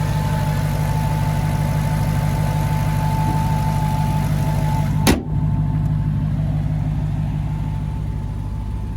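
A 2023 Dodge Challenger SRT Redeye WideBody with a 6.2-liter supercharged V8 idles with a steady, deep rumble and a constant whine. A sharp thump midway is followed by a slightly quieter, softer idle.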